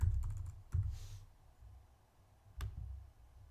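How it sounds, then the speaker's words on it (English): Quick keystrokes on a computer keyboard typing a short word, a few crisp close clicks in a brief burst, then a pause and one more tap. "So in the search box, I will type Outlook."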